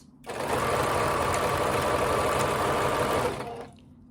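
A sewing machine stitches a French seam in one continuous run of about three seconds, a steady, close mechanical whir that starts and stops cleanly.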